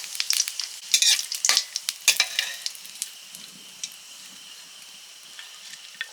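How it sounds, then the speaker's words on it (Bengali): Dry red chilli, bay leaf and cumin crackle in hot oil as a tempering for a crab ghonto, with loud sputtering pops at first that fade to a quieter, sparser sizzle. "এবার ঘন্টটাতে ফোড়ন দেব শুকনো লঙ্কা তেজপাতা জিরে"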